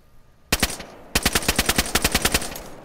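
Gunfire from the DayZ video game: a single sharp shot, then a rapid burst of about a dozen evenly spaced automatic rounds, loud and close.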